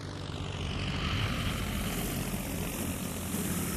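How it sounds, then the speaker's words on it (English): A replica British BE-2 biplane, a First World War reconnaissance aircraft, flying with its propeller engine roaring loud and continuous in a dense, steady drone heard from the front cockpit. "I'm flying with the Great War Display Team in a replica of the British BE-2."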